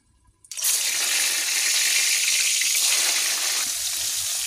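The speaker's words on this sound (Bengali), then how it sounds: "বেগুনটা ভেজে নিচ্ছি" Eggplant frying in hot oil in a home kitchen pan, a loud steady broadband hiss that bursts in abruptly after a brief quiet start and holds without pause, with no talking.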